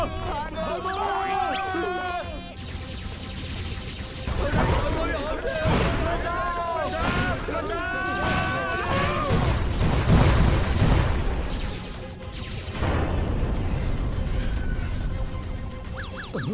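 Gunfire and explosions ring out as a giant spaceship attacks in an animated Hindi film, with bursts of blasts and crashes mixed into excited voices talking and shouting throughout.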